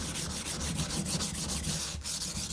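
A Hado sumi knife with tall bevels is pushed back and forth on a whetstone, giving a steady, close rubbing scrape that repeats in quick strokes with a brief pause near the end.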